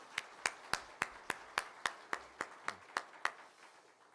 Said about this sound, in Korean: 환영하며 축복하며 박수하겠습니다.